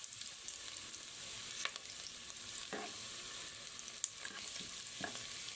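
Vegetables for ginataang gulay fry in a pan with garlic and lemongrass, a quiet steady sizzle with a few faint clinks of stirring, heard without speech.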